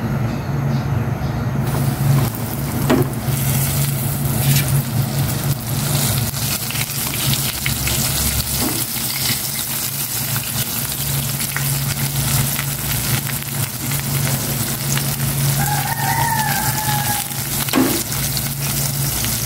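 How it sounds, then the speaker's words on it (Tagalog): Catfish sizzles steadily in a pan of hot oil, a loud continuous crackling hiss with a low hum beneath and a few occasional clatters. "Mainit na ang aking ilagay na mantika. Magprito na ako."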